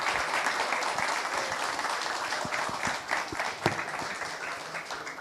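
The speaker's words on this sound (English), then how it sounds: "a warm round of applause for our panel right now" Conference audience at a climate summit gives a panel a warm round of applause, steady dense clapping at moderate distance, continuous throughout with a few sharper claps standing out.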